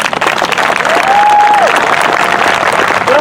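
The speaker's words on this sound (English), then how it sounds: "Let's give them a big round of applause, everybody." Crowd applause at an outdoor George Floyd justice rally in Monterey, California, loud continuous clapping from many people close by, with a few cheers mixed in.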